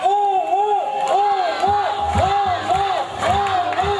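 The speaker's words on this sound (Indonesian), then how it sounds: "tepuk tangannya mana? Teriakannya mana untuk penyanyi kita?" A crowd at a zoo shows cheers and shouts for a singer, loud rising-and-falling whoops repeating in a steady rhythm, with heavier thumps and voices beneath.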